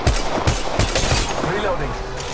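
Gunfire in the mobile battle royale game Apex Legends Mobile, heard as rapid repeated shots in quick bursts, loud and dense, with a speaking voice over the top.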